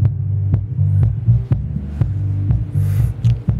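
A homemade car subwoofer pumping deep, throbbing bass in a steady pulsing rhythm, with sharp thuds and occasional faint higher tones on top, loud and close.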